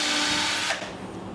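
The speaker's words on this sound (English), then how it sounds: "Just make a couple of drill marks." A power drill whines loudly and steadily as it drills into wood, then its pitch drops and the motor winds down near the end.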